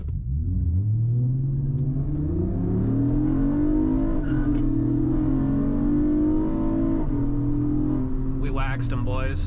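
Honda Accord V6 and Ford Mustang launching from a dig, loud engines revving and climbing through gears with rising, shifting tones, close and continuous, with a brief voice near the end.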